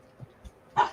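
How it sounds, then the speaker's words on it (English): A single dog bark, short and moderately loud, close by, with a couple of faint softer sounds before it and no talking. "Hey, Sly, I gotta let my dog out."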